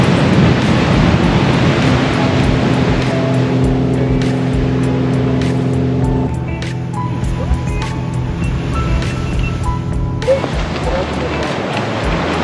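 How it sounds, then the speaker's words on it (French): Steady broadband rush of ocean waves crashing on a beach close by, with a low engine-like drone underneath and occasional voices. "on entend les vagues d'ici s'écraser"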